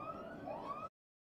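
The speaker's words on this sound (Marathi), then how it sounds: "गोलंदाज हे सायरन वाजू नये याची प्रार्थना करतात, तेच सायरन वाजलंय" A siren at a cricket match signalling a no ball, a brief steady wailing tone that holds, rises slightly, then cuts off abruptly into silence.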